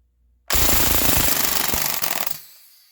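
A KWC full metal Mini UZI 4.5mm CO2 BB gun fires full auto for about two seconds, a loud rapid rattling burst emptying the magazine, ending in a short decaying tail.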